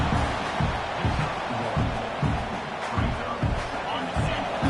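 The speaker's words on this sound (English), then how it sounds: "The crowd really making some noise now, trying to help out this defense to get this stop near the goal line." A college football stadium crowd roars near the goal line, a dense, continuous wall of noise with rhythmic surges, while a commentator talks over it.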